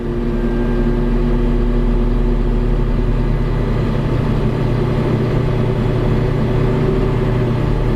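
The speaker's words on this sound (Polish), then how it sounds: "zwiększymy sobie obroty do około 1200 na minutę i sprawdzimy sobie poziom głośności w kabinie" Diesel engine of a JCB 532-70 telehandler held at about 1200 rpm, heard from inside the cab as a steady, even low hum with no change in pitch or speed.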